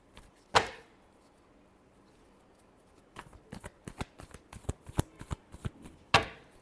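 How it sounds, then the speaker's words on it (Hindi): Tarot cards being shuffled: a sharp snap, a quiet pause, then a quick run of crisp card slaps ending in another firm snap, close and alone. "Last shuffle."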